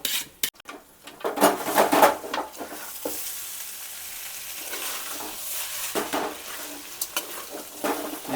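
Food being stirred and mixed in a pan, with the seasoning salt just added, as a home cook prepares a dish: a steady scraping, clattering stir with a light sizzle running under it, close and fairly loud, with no voices.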